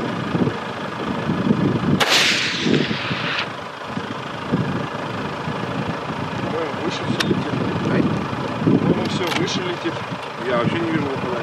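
A rifle fired on an outdoor range at a paper target 325 meters away, one sharp loud report early on, heard over steady wind noise on the microphone while someone talks throughout.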